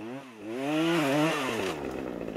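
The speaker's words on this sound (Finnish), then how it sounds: "uusi selässä kannettava saha" A Husqvarna 535FBX backpack clearing saw runs near the microphone, its engine whining with a rising and falling pitch over a couple of seconds as it revs, with no voices.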